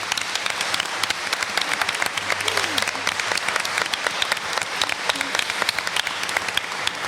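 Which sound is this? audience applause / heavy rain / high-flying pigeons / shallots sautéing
audience applause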